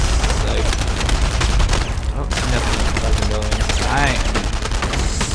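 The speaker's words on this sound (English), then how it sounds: "why are those guys shooting directly?" Rapid bursts of gunfire and booming shots in a World War II shooter video game, loud and continuous, with dense overlapping volleys and faint voices beneath.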